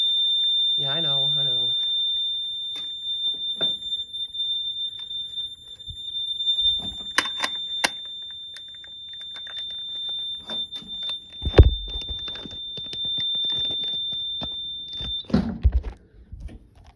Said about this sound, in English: Now, we're going to wave out our detector.